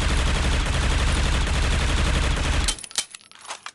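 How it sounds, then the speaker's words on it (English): A silenced AUG rifle fires in the video game Critical Ops, a dense, continuous automatic burst lasting a few seconds and then breaking into a handful of scattered trailing shots. "So the AUG's recoil pattern looks like this."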